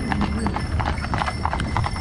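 Horse hooves clip-clop at a steady walking rhythm at a Bukovinian village wedding, close and fairly loud over a low background rumble.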